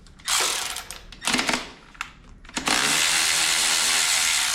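A cordless ratchet, Milwaukee or Hyper Tough, driving a fastener up to 1/2 inch: three loud bursts of whirring gear-and-pawl ratcheting, the last running continuously to the end, close and with no talk.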